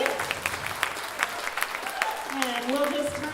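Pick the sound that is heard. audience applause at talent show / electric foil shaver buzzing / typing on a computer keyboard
audience applause at talent show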